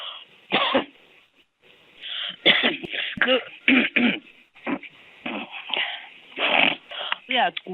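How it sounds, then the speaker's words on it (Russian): A woman coughs repeatedly over a narrow-band phone line, a series of short, harsh bursts separated by brief pauses, fairly close and clear, with no other voices. "Я аж кашлять начала."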